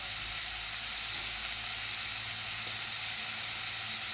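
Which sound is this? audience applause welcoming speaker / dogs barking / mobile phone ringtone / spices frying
spices frying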